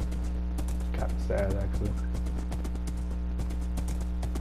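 Horse hooves clip-clop in a Minecraft survival game, set in an ice biome, from a horse wearing golden armor: a steady run of light, rhythmic taps under a low droning background while a person talks over it.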